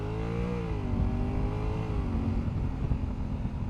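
A 2021 Honda Africa Twin DCT motorcycle engine revving, a steady close droning hum whose pitch rises, dips and then settles over a few seconds, heard without talk.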